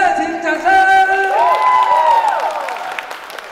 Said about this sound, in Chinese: 再给他们热情掌声。